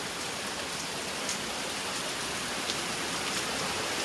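Heavy rain mixed with the roar of waterfalls at Raigad Fort in monsoon mist, heard as a loud, dense, unbroken wash of water noise with no let-up.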